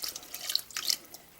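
Cold water running from a kitchen tap for stock, a brief hissing trickle with light splashy drips, fairly soft and heard alone.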